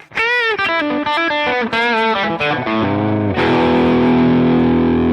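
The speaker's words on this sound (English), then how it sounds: "I do prefer more of a trebly sound of an overdrive" Electric guitar through overdrive, a bright, trebly distorted run of notes ending on a sustained ringing chord, loud and close.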